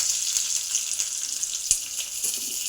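Dried chillies, curry leaves and asafoetida crackle in hot oil for tomato rasam, a close, even sizzle with a few small pops and one sharp tap of a utensil.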